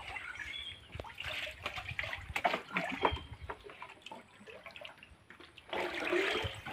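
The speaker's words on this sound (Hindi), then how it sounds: "ये देखिए मेरा बाल्टी भी फुल हो गया" Water pours steadily into a bucket at a hill-village farm, a continuous splashing trickle rising and falling with faint outdoor ambience and no talking.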